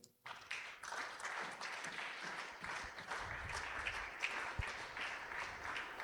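Congregation at a church prayer service breaking into sustained applause for the Lord, a steady wash of many hands clapping heard from a moderate distance, continuing without talk.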